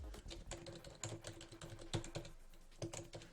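Quick, uneven keystrokes on a computer keyboard during an SQL injection demo, close and fairly quiet, with irregular bursts of clicks and brief pauses and no talking.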